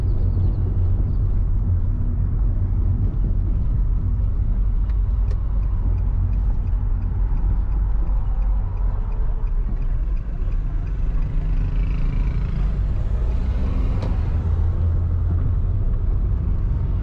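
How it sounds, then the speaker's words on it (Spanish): A car drives along a highway through an urban stretch of town with heavy traffic, a steady loud road rumble and engine drone continuing throughout. "Estamos en la carretera, aunque sigue siendo zona urbana."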